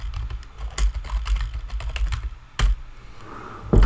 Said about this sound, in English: I have to actually be typing in the box.